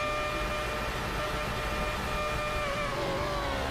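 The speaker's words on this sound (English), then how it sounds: "Listen to the roar of that Red Bull engine." A Red Bull Formula 1 car engine in the F1 2011 racing game roars at a sustained high pitch, steady and loud throughout with slight rising tones near the end.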